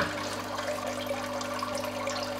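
Water runs steadily into a small kitchen aquaponics tank fitted with a heater and an air stone. The flow makes a constant hiss and trickle over a low, even electrical hum.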